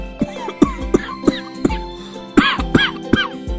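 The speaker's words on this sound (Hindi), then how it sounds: "कब से खांस रहे हैं" A sick, hungry man coughs repeatedly in a home scene, a string of sharp close coughs at a steady rhythm that turns into a harder, rougher fit near the end.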